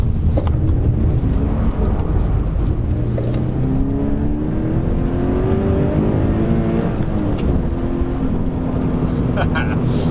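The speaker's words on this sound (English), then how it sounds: "Just down into second, blip the throttle. Let's try and get this sideways." A 2013 Toyota GT86 downshifted into second with throttle blips while being thrown sideways in a drift, its engine loud and close, rising and falling in pitch over a constant roar of road and wind noise.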